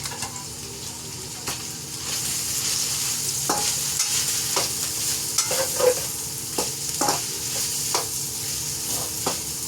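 Carrots stirred and frying in a pan, with a steady sizzle and scattered scrapes and clicks of the utensil against the pan.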